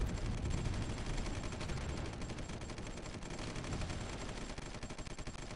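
Dense, continuous crackle of gunfire from the strategy game Supreme Ruler 2020 as anti-ship missiles are shot down, a steady loud rattle of rapid shots with no voices over it.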